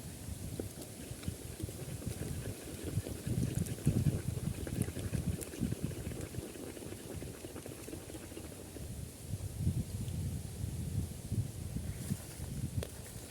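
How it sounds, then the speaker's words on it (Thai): Strong wind gusts rumble and buffet the microphone in a continuous low roar, swelling and easing, with leaves rustling. "ลมแรงด้วยครับวันนี้"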